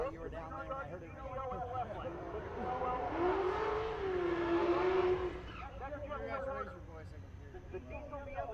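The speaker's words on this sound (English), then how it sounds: "the diesel BMW with nitrous assist" A diesel BMW with nitrous assist roars past on a drag strip at a race week event, its engine swelling in the middle and fading away, heard faintly under steady commentator talk.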